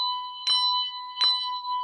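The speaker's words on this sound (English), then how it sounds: "So you can play those two bells attacked together." Two handbells struck together in a ringing demonstration sound twice, about three-quarters of a second apart, each a bright clanging strike over a sustained, clear ringing tone that hangs between the hits.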